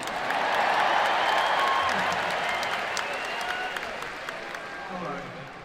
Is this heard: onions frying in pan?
no